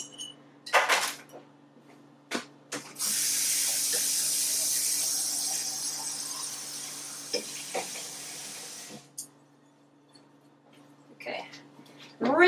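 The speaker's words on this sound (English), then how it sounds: "Rinsing my brush out." Paintbrush rinsed in a jar of water, a long steady hissing swish lasting several seconds between scattered clicks and knocks, with brief talking at the start and end.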